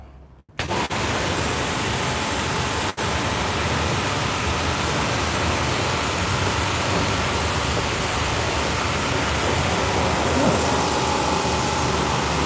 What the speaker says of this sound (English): Okay, I'm gonna rinse my part here.